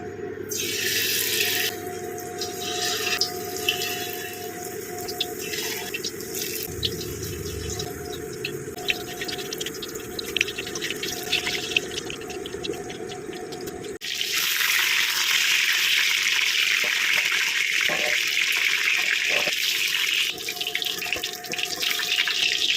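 Soya chunks dipped in cornflour and fried one at a time in hot mustard oil give off a continuous crackling sizzle that swells louder and brighter about halfway through, with no voices.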